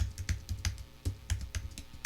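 Close computer keyboard typing, a quick irregular patter of key clicks and thumps with short pauses, fairly quiet and alone.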